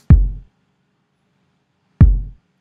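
Two heavy kick drum hits from a loop built in Ableton, spaced about two seconds apart, each a deep booming thump with a short decaying tail and silence in between.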